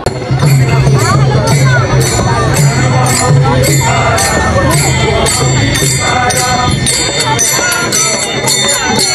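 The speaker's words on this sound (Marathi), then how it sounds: "भाविकांची गर्दी बघा एवढी भयंकर अशी गर्दी आहे उरुळी कांचन मध्ये" A dense crowd of devotees at the Tukaram Maharaj palkhi procession in Uruli Kanchan, a loud continuous babble of many voices with steady music or chanting woven through, and a person talking over it.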